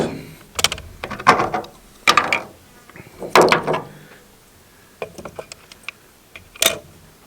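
Clicks of a rifle scope turret being turned while adjusting at a shooting range, heard as a few sharp, close mechanical ticks in small spaced groups, each cluster a quick run of clicks.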